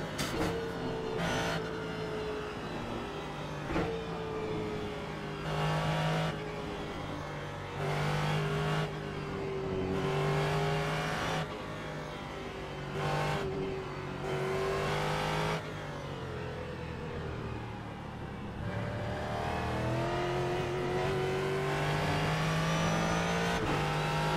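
Ford GT3 race car engine in the iRacing sim at Circuit of the Americas, a loud sustained engine note rising through the gears, dropping sharply on downshifts and climbing again, continuous throughout with no talking.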